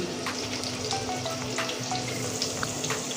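Potato pieces fry in hot oil in a pan, with turmeric and salt added, giving a steady, even sizzle that runs throughout, quiet and close, with no voices.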